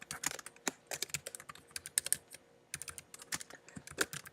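A computer keyboard clicks under quick, uneven typing, crisp keystrokes close to the microphone arriving in short bursts with brief pauses.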